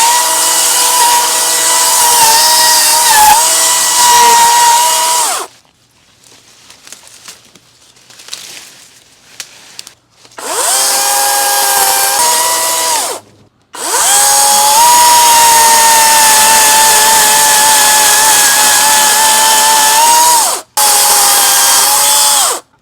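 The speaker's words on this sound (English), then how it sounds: "the Ego chainsaw did a really good job on the clerodendron tree, taking off all the little water sprouts" An EGO 16-inch battery chainsaw (CS1611) whines loudly in several bursts, each a few seconds long, with quiet gaps between, cutting water sprouts off a clerodendron tree.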